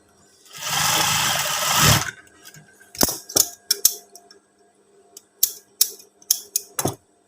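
Sewing machine stitching a garment, a long continuous whir followed by a series of short sharp clicks and stitch bursts, close and alone.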